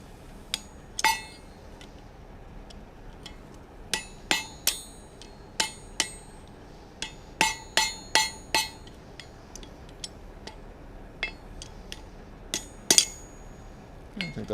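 Sharp, ringing hammer blows on hot metal at a forge while fullering, irregular clusters of bright metallic strikes with quiet gaps between, fairly close and no talking.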